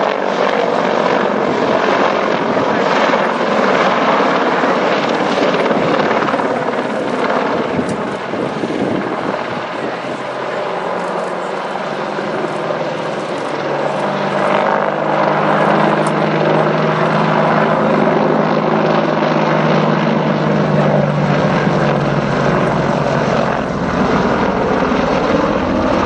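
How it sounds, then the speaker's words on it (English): Army Air Corps Apache attack helicopter flying an agile display at an air show, a loud, sustained rotor thrum and turbine whine that shifts in pitch as it manoeuvres, with wind buffeting the microphone. "the Apache is not just a powerful attack helicopter,"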